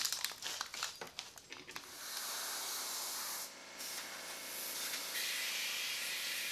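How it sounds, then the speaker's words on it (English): Compressor forced air blowing on a stainless damascus chef knife blade clamped between aluminum quench plates: a few crackling ticks, then a steady, fairly loud broadband hiss of air lasting several seconds. "along with some forced air from the compressor."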